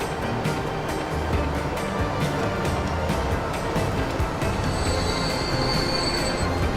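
Train wheels squeal in the video game Transport Fever, a rolling metallic rumble with rhythmic clacks and a high grinding screech rising near the end, fairly loud and close.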